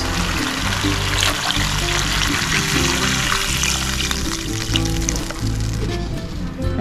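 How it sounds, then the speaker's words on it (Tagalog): Water pours steadily into a cooking pot of pork hock for several seconds, a continuous splashing trickle with a faint sizzle underneath, close by and fairly loud. "Sunod na natin lagyan ng tubig guys."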